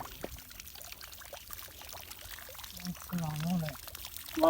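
Water gushes from a turbine outlet under natural pressure in a remote village near the India–Pakistan border, a constant pouring rush with someone talking over it.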